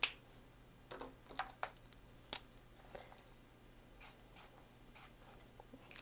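Pen and highlighter scratching across a paper budget calendar, close and quiet, with short irregular strokes and small taps, no talking.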